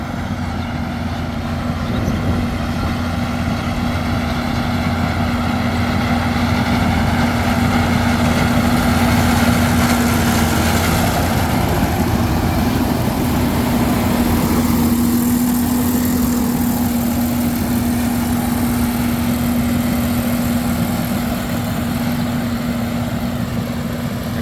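A rice harvesting machine's engine runs steadily in a paddy field as it cuts and threshes the crop, a loud continuous drone with a constant low hum and no break throughout.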